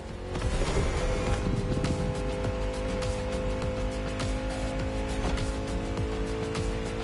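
A modern Ford Mustang Shelby GT500 drives in The Crew Motorfest, its engine droning loud and continuous with tonal whine, tire squeal and skidding layered over a steady roar.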